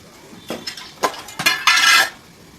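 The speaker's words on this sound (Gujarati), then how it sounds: "આ રીતે હલાવીને ભીંડો જ્યાં સુધી ચડે" Okra being stirred in a pan with masala powder mixed in, giving several short scraping and clinking strokes of a utensil against metal, close and distinct, with a longer scrape near the end and no talking.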